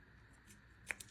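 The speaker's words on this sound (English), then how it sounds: "I'm going to grab some scissors." Two quick, crisp snips of scissors close by, a short pause between them, over a faint quiet background.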